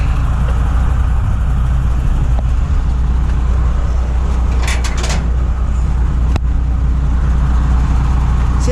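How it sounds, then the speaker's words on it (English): A tri-axle truck engine idles with a deep, constant low rumble and steady drone, loud and close, with a couple of brief clicks and rattles over it. "Our only tri-axle truck."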